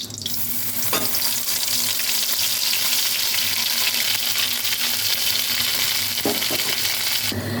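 Kharkol leaf paste frying in hot mustard oil in a wok, a loud, steady sizzling hiss that runs unbroken from start to finish, with a few faint clinks near the end.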